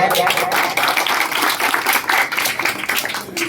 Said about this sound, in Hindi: स्वागत करते हैं, अभिनंदन करते हैं, जोरदार तालियां।